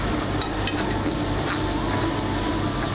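Cashews, golden raisins and carrot are stirred in hot ghee, producing a dense, steady sizzle up close with faint stirring clicks and no talk.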